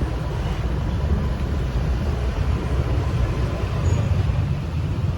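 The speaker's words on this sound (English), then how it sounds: "There is a traffic jam." Steady, dense road traffic noise from a traffic jam on Lamai Beach Road on Koh Samui, with engines idling and rumbling close by in a continuous wash of low roar.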